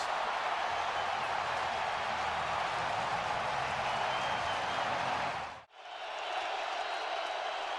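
Stadium crowd roaring at an NFL playoff game between the Vikings and Cowboys after a touchdown, a broad sustained wash of cheering that drops away abruptly near the end before resuming more thinly.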